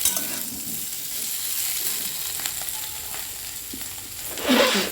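Aloo dum potato curry masala with onion and tomato fries in a pan with a soft, steady sizzle and faint stirring, swelling briefly louder near the end, with no voices.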